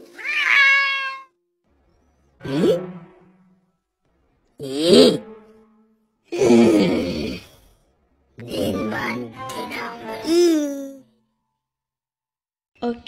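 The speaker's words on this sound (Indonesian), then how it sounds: "Dasar kucing gembul." A cat gives a series of five or six drawn-out meows separated by short silences, close and fairly loud, some rising and wavering like a complaint.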